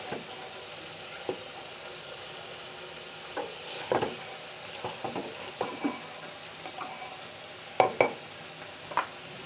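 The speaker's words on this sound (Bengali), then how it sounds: "এখন মাছের জন্য মশলাগুলো কষাই নিতেছি" Onion and spice masala sautéing in a pan for a bata fish curry, a faint sizzle broken by scattered scrapes and clinks of stirring, with no voices.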